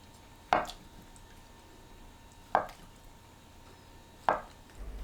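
Three evenly spaced knife cuts through king oyster mushrooms and tofu on a cutting board, each a crisp single thunk about two seconds apart, close and clear over a quiet room.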